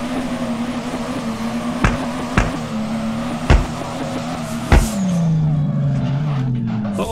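A BMW E46 drifts in the DRIFT21 driving simulator, its engine holding a loud, steady drone broken by several sharp bursts before the pitch sags and fades near the end.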